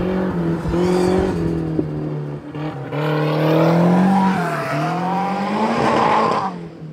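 A stripped, modified junk car with roughly 300 horsepower accelerates hard on a track, its engine loud and close, revving up in rising pitch sweeps with shifts and tire noise.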